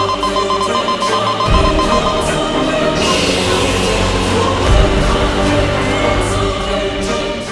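A security alarm rings continuously at the home of the Baalveer heroes, a dense, steady electronic ringing with layered tones and music that carries on throughout without any pause.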